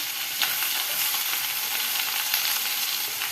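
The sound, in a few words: onion and green chilli sautéing in a pan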